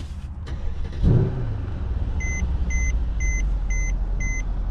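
Mercedes E63s AMG W212 with a 5.5L V8 BiTurbo engine starts with a short cranking burst that settles into a low, steady idle rumble, while a soft repeating electronic chime beeps in the cabin.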